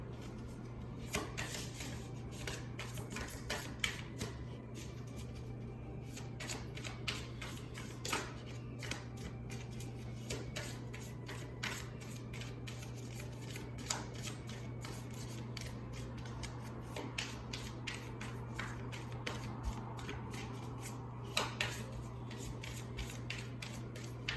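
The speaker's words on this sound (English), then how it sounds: "let's go ahead and get into some shuffling here." Tarot cards being shuffled by hand, a long run of quiet, irregular riffles and slides with soft snaps, close and faint over a steady low hum, no talking.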